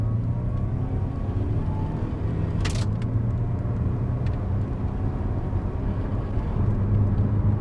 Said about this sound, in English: Let me pull away here. And I'll accelerate a bit harder, it gives you an idea.